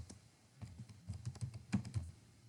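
Code is typed on a computer keyboard in quick, irregular bursts of soft, close clicks and taps over a quiet room, with short pauses between the runs of keystrokes.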